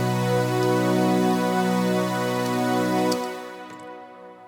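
Four layered Omnisphere synth keys patches played together as one multi sound a sustained, rich chord with bright upper partials, steady and loud for about three seconds before stopping abruptly and trailing off in a short fading tail.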